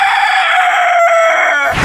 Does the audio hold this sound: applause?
no